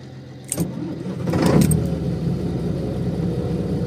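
A 1975 Scania truck engine cranks briefly, then catches and settles into a steady, rumbling idle, heard up close with no talking.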